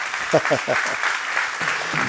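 A church congregation claps as a bilingual preacher leads the service, a brisk wash of applause running under his speaking voice and the interpreter's.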